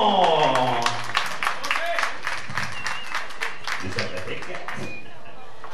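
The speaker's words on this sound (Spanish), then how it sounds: "Ahora sí denle un fuerte aplauso" A crowd claps and applauds loudly and steadily, with a few voices and tonal sounds mixed in as the clapping carries on.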